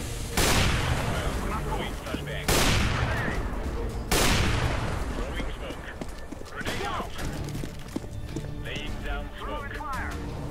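Sniper rifle fire in the game CS:GO: three loud, sharp shots spaced about two seconds apart, each with a long decaying tail, followed by busy game noise and scattered clatter, with talk running underneath.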